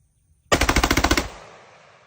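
An AR pistol fitted with a forced reset trigger fires a rapid burst of about eleven or twelve shots in roughly three quarters of a second, loud and close, then a decaying echo trails off.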